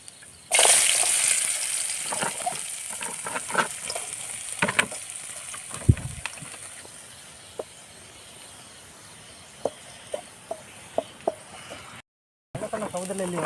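Oil sizzles in a pan with turmeric and sambar powder, a continuous hiss broken by sharp spits and stirring clatters, ending after a brief pause with another burst of frying.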